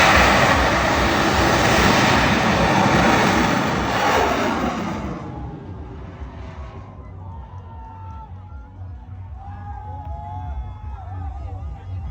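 A homemade bamboo rocket launches at a Laos rocket festival, a loud roaring rush of thrust that fades over several seconds into distant rumble, with crowd noise and faint talk in the background.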